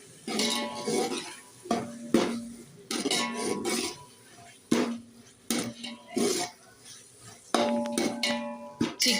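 Chicken for chicken pulao, cooked with ground cashews, is stirred in a pan: sharp metal spoon clanks and scrapes come in irregular bursts over a soft sauté hiss, with a voice speaking between them.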